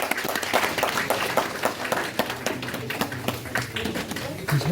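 An audience at a seminar session claps steadily, a dense, continuous patter of many hands close by that holds at an even level throughout.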